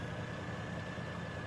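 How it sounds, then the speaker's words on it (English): A Peterbilt truck in Farming Simulator 15 idles with a steady low engine rumble and a faint constant whine, unchanging and quiet with no voices. "and then our Peterbilt truck."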